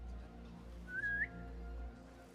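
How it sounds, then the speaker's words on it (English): A character in Assassin's Creed Mirage gives one short, rising whistle, fairly quiet, over a steady low game ambience with no talk. "Little whistle action"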